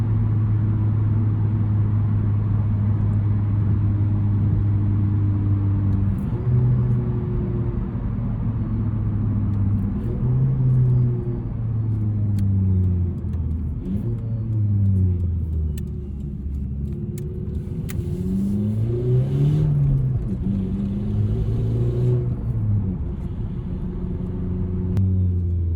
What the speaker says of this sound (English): It's such a nice car to drive.